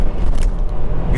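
Alfa Romeo Giulia Q4 Competizione landing after a jump, a close, steady low engine and road rumble with a soft thud of suspension, no voices.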